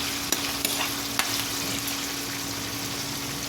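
Sautéed ingredients with pork being stirred in a hot pan for a simple Filipino pakbet, steady close sizzle with a few sharp clicks of the utensil against the pan early on, no talking.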